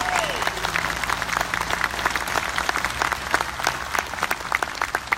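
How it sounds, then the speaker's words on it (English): An audience at a band concert applauds military members in attendance, with dense, close clapping that thins to scattered individual claps toward the end. "How about one more round of applause for all our military in the audience today?"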